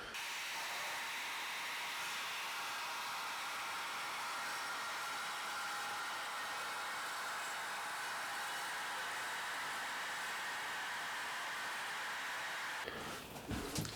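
An Evolution R165CCS-Li cordless circular saw cuts through a board in one long, steady high-pitched whine of about thirteen seconds, ending abruptly as the cut finishes.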